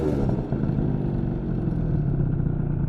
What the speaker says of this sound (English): We're paying attention to how quickly it drops back down to idle.